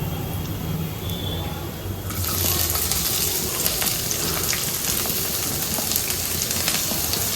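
Onions tipped into garlic already frying in a pan, the quiet oil crackle swelling abruptly into a loud, dense, steady sizzle that carries on without pause.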